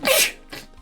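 A single sharp, close sneeze bursts out loud at the start, followed by a softer breathy tail and quiet rustle.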